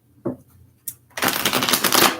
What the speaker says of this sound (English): So just a couple more shuffles here.